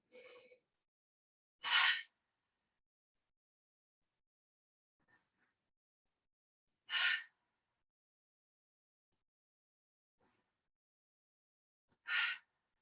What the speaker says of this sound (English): So let's take 3 deep breaths.